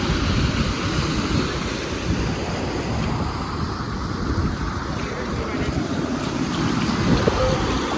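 Fast floodwater rushes over a bridge on the Keshiary–Kharagpur state road after heavy rain, a dense, steady roar close by, mixed with wind buffeting the microphone.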